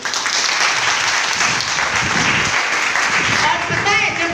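A seminar audience applauds loudly and steadily, a dense roar of many hands clapping together that continues through the clip and thins slightly at the end.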